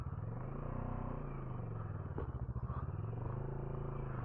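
A Moto Morini X-Cape motorcycle being ridden on and off road, its engine giving a steady low rumble with rising and falling revs and a brief clatter midway.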